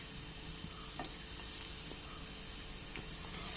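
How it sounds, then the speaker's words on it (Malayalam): Small bananas roasting in ghee in a pan give a steady, soft sizzle and crackle with occasional stirring clicks, close and continuous without any talking. "ഇനി നമുക്കിതിലേക്ക് പഴുട്ടൊന്ന് റോസ്റ്റ് ചെയ്തെടുക്കാം"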